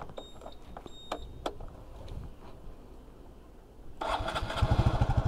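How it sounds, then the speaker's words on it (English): A scooter on the Scooter Cannonball rally sits quietly with a few light clicks and taps before its engine catches about four seconds in and settles into a close, steady putter. "Fire up the wet bike."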